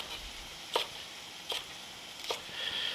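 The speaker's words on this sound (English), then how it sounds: "So here I will cut it coarsely." A knife coarsely chops a poblano pepper on a board with three evenly spaced, crisp cuts, quiet and close with no talking.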